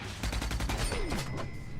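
Rapid automatic gunfire rattles in a car combat video game, a dense string of close shots followed by a descending whine and lingering ringing tones.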